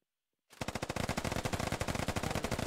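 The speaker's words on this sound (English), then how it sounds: "Lots of gunfire." Automatic gunfire in the Squad video game erupts after a half-second of silence, a fast, loud stream of regular bursts that continues to the end with no voices.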